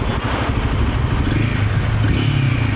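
Royal Enfield Himalayan 450 engine on the move, a low rumbling throb with some vibration and clatter, steady and close, with the pitch rising slightly near the end.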